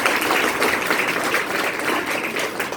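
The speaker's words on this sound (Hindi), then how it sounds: "बहुत बढ़िया, ताली बजाइए इनके लिए।" Classroom applause for a student after answering during a menstrual hygiene day lesson, a steady dense patter of many hands clapping throughout, fairly loud and without talk.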